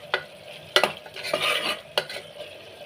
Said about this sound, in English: I'm going to give it a fine mix